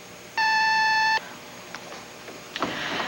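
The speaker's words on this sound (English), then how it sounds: "please leave a message after you hear the beep" A single steady electronic beep lasting nearly a second, followed by quiet hiss and a faint clatter, like a phone handset being picked up.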